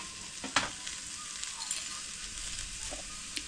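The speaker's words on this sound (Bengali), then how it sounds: "এখন দিয়ে দেব আলুটা, দিয়ে দেব পেঁয়াজটা, দিয়ে দেব রসুন বাটাটা, দিয়ে দেব মাছটা।" Potato, onion, garlic paste and small fish frying in a wok give a steady close hiss of sizzling oil with a few brief crackles and stirring scrapes, without any talk.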